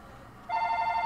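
An in-game telephone in Ni No Kuni: Wrath of the White Witch bursts into a steady, rapidly pulsing electronic ring after a brief hush, holding at even volume, close and uncovered by any voice.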